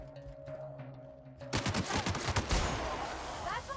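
Rapid burst of gunfire in the video game The Outer Worlds, sharp repeated shots starting abruptly and continuing loud and close after a quieter stretch of game music and ambience.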